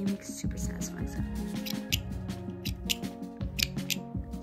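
Sharp scissors from a wool painting kit snip repeatedly, giving a series of crisp, close, moderately quiet clicks over a steady tonal background.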